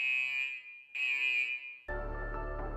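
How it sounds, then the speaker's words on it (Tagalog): Fire alarms sound inside a museum, two loud sustained electronic tones separated by a short gap, then shifting abruptly into a harsher, buzzing alarm blare that continues to the end. "nagulat siya nang biglang nag-alarm ang ilan sa mga fire alarms ng museum"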